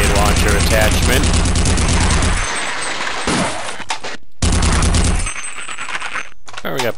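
Sustained automatic gunfire in the video game Half-Quake, loud and dense bursts filling most of the clip with brief pauses, likely from a machine gun with a grenade launcher attachment.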